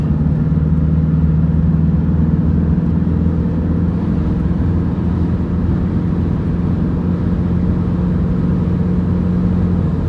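A Toyota Hiace van's engine drones steadily under load through the automatic transmission, a loud, continuous low hum with road noise and no talking.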